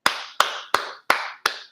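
Executives on stage applauding an employee: five slow, evenly spaced hand claps, crisp and close, each ringing briefly before the next, with no voices.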